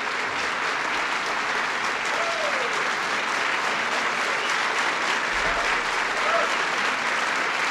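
Sustained audience applause at a presidential announcement of a Supreme Court nomination, steady dense clapping throughout with a faint voice briefly audible beneath it.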